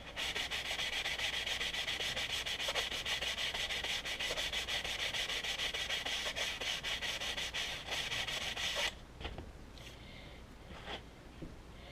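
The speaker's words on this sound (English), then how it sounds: "So just give it a good scrub." An old toy train set's track, plastic parts included, is scrubbed clean with rapid, close, rasping strokes for about nine seconds, then the rubbing stops and only a few faint scrapes follow.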